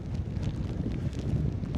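Strong wind buffets a fishing boat, a steady low roar with microphone rumble that fills the whole stretch without letting up.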